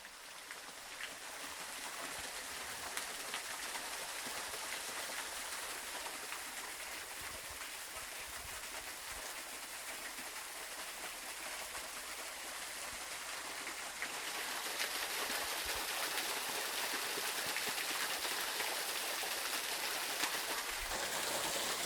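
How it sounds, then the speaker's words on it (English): A brook crashing over a layer of sedimentary bedrock onto gravel below in a narrow channel, a constant broadband rush of falling water that grows slightly louder partway through, with no voices over it. "That is the beautiful sound of the brook coming crashing over a layer of sedimentary bedrock and onto the gravel down below."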